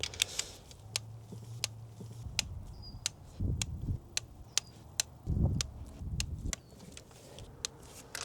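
A torque wrench tightens bolts to 9 newton meters on a BMW E90 335d engine during carbon cleaning, making a run of sharp, evenly spaced ratchet clicks close by, with brief low thuds between them.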